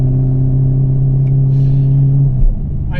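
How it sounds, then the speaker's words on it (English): A twin turbo Camaro on 26-inch tires spins its wheels at a race track, a loud, close, sustained engine roar at high revs that drops sharply near the end, with a short burst of tire noise. "I blew the tires off really bad right there"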